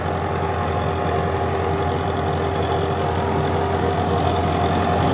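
A tractor pulling a Sonalika super seeder through a field, its engine a steady low droning rumble with a constant tonal hum, close and loud throughout with no speech over it.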